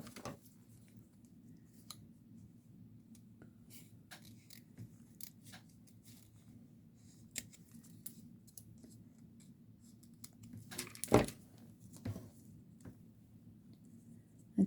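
Scissors snip and trim paper for a Christmas pocket album, a series of faint, close cuts and small rustles in a quiet room, with one louder crunch partway through.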